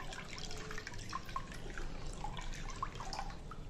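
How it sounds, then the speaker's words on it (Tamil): Extracted herbal juice trickles and drips as it is poured into oil for a traditional hair-growth remedy, a soft, close liquid splashing with small droplet plinks, quiet and steady with no talking. "வெறும் சாறு மட்டும் ஊற்ற போகிறோம் இதை ஊற்றிக்கிடுவோம்"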